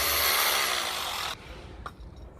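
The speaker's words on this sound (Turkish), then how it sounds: "matkapla böyle yukarıya delikler açıyor" A power drill bores upward into wood for a wooden garden swing, a loud grinding whir lasting just over a second before cutting off, followed by faint handling sounds.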